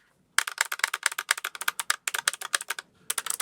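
Fast, crisp clicky typing on a low-profile mechanical keyboard with blue Keychron switches, steady bursts of sharp keystrokes with a brief pause near the end, close and fairly loud.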